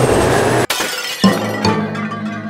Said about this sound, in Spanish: ¡Mi avión se rompió!